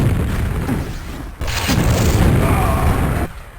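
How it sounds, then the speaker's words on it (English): A rocket jump in the Quake arena shooter, map dm4: a sudden loud blast bursts in partway through, backed by a low, rumbling game soundscape that cuts off abruptly near the end. "If you rocket jump while you're down, right down in the red part, it's actually obvious the sound that it makes"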